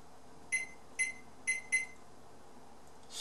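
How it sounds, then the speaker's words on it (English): Oven timer beeps four times in quick, evenly spaced electronic tones while being set for roasting chicken, fairly close and clear over a quiet kitchen background. "I'm going to set the timer here for"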